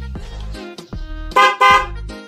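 A loud dual horn on a Honda XRM motorcycle honks in several short and longer blasts, with brief pauses between them, close by and with no talking.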